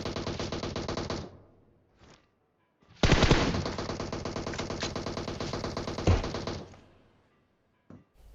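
Automatic gunfire in the PUBG battle royale video game, aimed at an enemy squad inside a house: two long sustained bursts of rapid shots separated by a short gap, with isolated single shots in between, loud and close, no talk.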